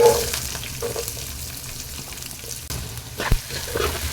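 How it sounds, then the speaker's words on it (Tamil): Finely chopped large onions fry with curry leaves in a pan for a prawn dish, a steady close sizzle with occasional stirring scrapes and a clunk near the end, no talk. "வெங்காயத்தை இது மாதிரி நல்லா வதக்கி விட்டுருங்க"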